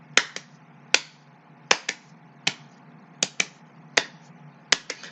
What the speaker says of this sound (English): Now double claps.